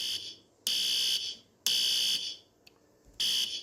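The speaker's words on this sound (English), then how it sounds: "There's a fire alarm." A fire alarm in a school sounds in three loud, shrill electronic bursts, each about half a second long, separated by short gaps with a faint click between them.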